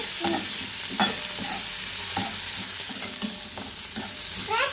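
Onion and tomato sautéing in a pan for Kolhapuri whole masoor gravy, with a steady close sizzle and regular scraping stirs from a spoon, no voices.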